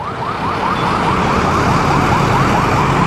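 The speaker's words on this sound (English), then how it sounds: "they've got the loudest ambulances of any place on the planet that I've ever been." On a Manila street, an ambulance siren wails very loudly in fast repeating rising sweeps, dominating over a steady wash of traffic rumble with no one speaking.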